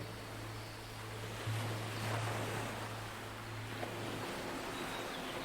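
Gentle ocean waves wash in on a beach in a steady, soothing rhythm, a soft continuous surf with light wind and a low hum in the background.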